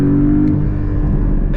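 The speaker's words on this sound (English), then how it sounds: "but watch when I step on the throttle." A 2018 Porsche 718 Cayman cruising in fourth gear drops two gears under throttle, its loud engine rumbling low and steady from close inside the car over a short burst.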